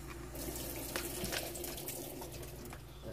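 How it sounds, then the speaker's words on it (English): Tap water runs steadily into a pan in a kitchen sink, a continuous close rushing splash with a faint low hum beneath it and no voices. "fill it up with water. I'm going to put some water in here."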